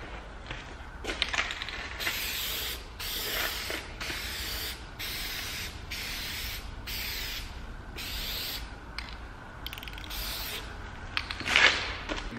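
Aerosol can spraying Hyperdip gloss black paint onto a Mercedes C-Class side mirror, a steady hiss in repeated bursts with brief pauses between passes, fairly close.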